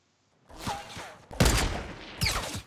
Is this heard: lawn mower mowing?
no